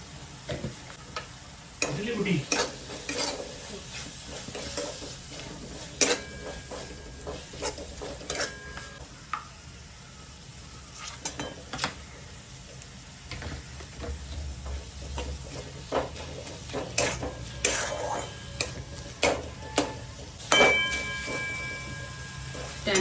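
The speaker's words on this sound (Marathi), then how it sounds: "छान मसाला तेलावर असं परतून घ्या म्हणजे तो छान शिजला जाईल" Masala frying in hot oil in a pan while being stirred, with a steady soft sizzle and scattered scraping clinks of the spoon throughout.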